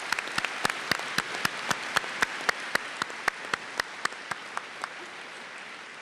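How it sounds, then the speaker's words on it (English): Graduation audience applauding the staff at Blaine's 2013 ceremony, a broad wash of clapping with sharp, regular claps standing out that gradually fade. "So would you please give them a round of applause."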